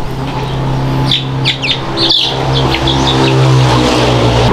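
Rhode Island Red and Black Australorp crossbreed chicks peep in a series of short high chirps over a steady low engine-like hum that fills the background.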